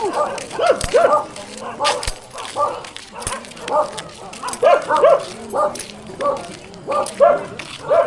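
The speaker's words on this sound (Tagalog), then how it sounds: "Aso, nabangga aso." A dog hit by a vehicle whimpers and yelps in repeated short, pained cries, fairly close and steady throughout, with faint background noise.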